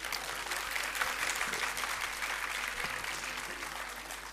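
Audience applause for school staff at an annual school function: steady, moderately loud clapping from a crowd that continues evenly throughout.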